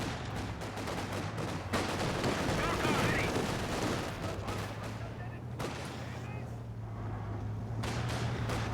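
Bren light machine guns on British infantry sections rattle off bursts of automatic fire in a real-time strategy battle, dense and continuous with other gunfire layered over a steady low hum, while a commentator talks throughout.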